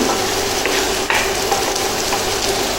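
Meat for a paleo shepherd's pie sizzles loudly in a frying pan, a dense, steady, close crackle with faint utensil clicks throughout and no speech.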